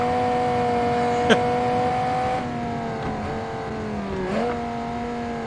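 A car engine revs high and steady in a driving game, the Concept Viper 2020 build, its pitch holding then dipping and climbing as the wheels spin, loud and close with a brief sharp click midway.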